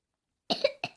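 After a moment of silence, a man coughs twice in quick succession, short and moderately loud, slightly distant.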